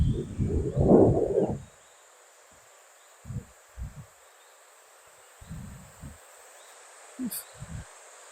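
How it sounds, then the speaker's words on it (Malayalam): Wind gusts through a forest near water on the Hellasgården to Bagarmossen trail, buffeting close in one long surge and then in short bursts over a steady faint high insect-like hiss. "നല്ല കാറ്റ്."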